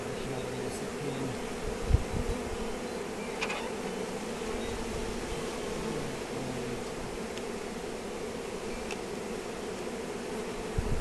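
Swarm of bees flying slowly around a homemade bee trap, a steady close buzzing hum from many insects, continuous throughout with a faint thump near the start.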